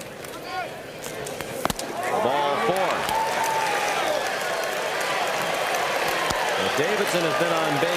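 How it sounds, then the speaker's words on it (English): A College World Series baseball crowd roars and claps in a stadium, a broad sustained wash of noise that swells after a quiet start, with a commentator talking over it. "the crowd roars in anticipation of the at-bat from Rachels"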